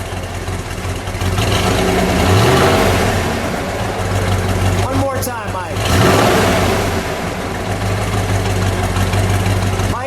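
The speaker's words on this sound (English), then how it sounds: "Give it a rev." A 1966 Plymouth Satellite's factory 426 Hemi V8 idles, then revs up hard twice, swelling and falling back, while people talk nearby.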